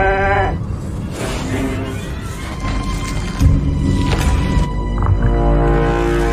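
Sheep bleating from the sheep used as test subjects in a science-fiction story set in 2120, several harmonic bleats at the start and near the end, loud and close over a dense rumbling background.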